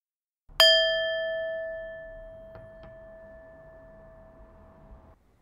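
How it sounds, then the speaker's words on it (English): A meditation gong timer is struck once, giving a bright metallic strike that rings on as a sustained, slowly fading tone for several seconds in an otherwise quiet room. "I'm going to have a little gong timer here"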